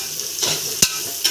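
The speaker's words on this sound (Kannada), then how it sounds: "ಹಾಕಿಕೊಂಡು ಫ್ರೈ ಮಾಡಬೇಕು." Onions fry in a pan with mint and coriander, giving a steady sizzle broken by stirring scrapes and a few sharp clicks of the spoon against the pan.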